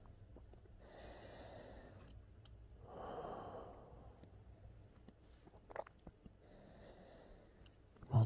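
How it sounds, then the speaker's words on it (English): Slow, calm breaths drawn close to the mic in a soft ASMR setting, with long airy inhales and exhales repeating in an even rhythm with quiet pauses between, alone without talk. "Listen to my breathing."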